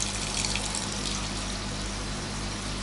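Water runs steadily from a tap or shower hose while a dog is washed after a walk. The flow is a close, continuous gushing hiss with no talking over it.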